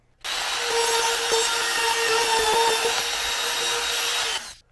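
A power saw cuts a wooden roof board for a DIY teardrop trailer camper, one loud continuous whining cut lasting about four seconds before stopping abruptly.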